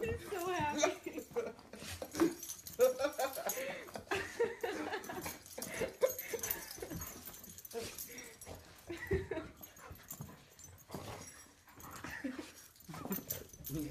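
A dog whimpers and yips at a man dressed up as its favorite chew toy, with high whines recurring throughout amid laughter and talking in a home setting.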